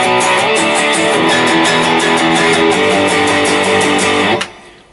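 A loud, dense electric guitar riff from the chorus of a song plays steadily with sustained chords and rhythmic strums, then cuts off abruptly near the end.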